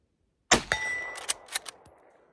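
A single sharp shot from an Arisaka Type 38 rifle chambered in 6.5 Arisaka, followed by a lingering metallic ring and a few scattered clinks that fade out.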